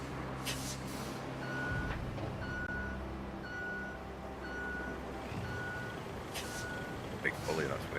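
A dump truck reversing in the Roadcraft video game, its backup alarm giving a steady series of evenly spaced beeps over a low engine hum, with a voice talking at times.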